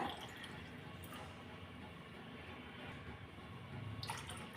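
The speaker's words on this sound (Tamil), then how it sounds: "இப்போ அதே கிளாஸால் ரெண்டு கிளாஸ் அளவு தண்ணி சேர்த்துக்கலாம் அந்த மாவில்" Water pours quietly into thick appam batter with a soft, continuous splashing and a few faint drips near the end.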